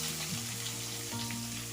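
Two finely chopped onions hit a hot pan and fry in a steady, close sizzle for wheat flour adai, with sustained tonal background music running underneath.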